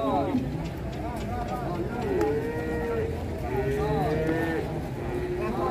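A thin, weak male cow, just unloaded from a truck and barely able to stand, moos several times in long, wavering calls, close and loud, while people talk over it throughout.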